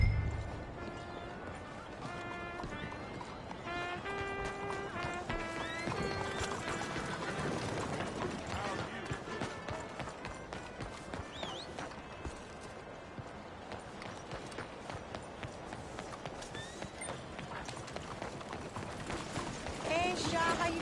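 Horse hooves galloping in Red Dead Redemption 2 give a steady, rhythmic clip-clop with creaking tack and mechanical rattles beneath game music, while voices talk intermittently.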